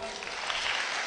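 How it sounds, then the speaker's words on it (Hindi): Applause from an audience at a Hindi-language talk or sermon, a dense steady patter of clapping filling the whole brief moment without pause. "जरा तालियां दे देना इनको।"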